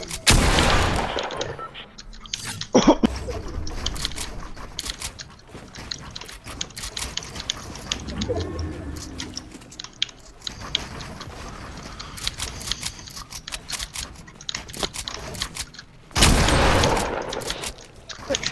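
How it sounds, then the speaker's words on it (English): Gunfire in a shooting video game, heard as dense bursts of rapid shots and mechanical clatter throughout, with loud blasts near the start and end over busy game noise. "Oh, good shot, Passwords."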